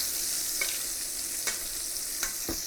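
Short rib sizzles and browns in butter in a pan, a dense steady frying hiss with a few light spoon taps as it is basted.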